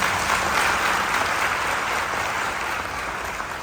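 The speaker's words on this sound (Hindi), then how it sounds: "के लिए जोरदार तालियां हो।" Loud, dense applause fills a hall at a program in Lucknow, a steady wash of many hands clapping at once that holds evenly for a few seconds.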